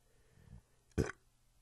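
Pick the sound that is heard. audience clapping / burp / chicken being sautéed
burp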